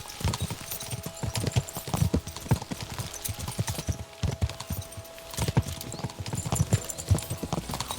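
Hooves pound in a quick irregular rhythm as horses gallop in the video game Kingdom Come: Deliverance II, a continuous clatter of hoofbeats with a faint whinny mixed in.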